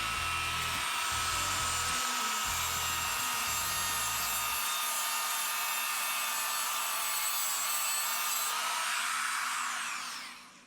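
A Tech South PowerPoint tungsten grinder runs as a loud, continuous high whine, with low thumping contact noise early on as scrap metal for a pottery tool is sharpened, before the motor winds down.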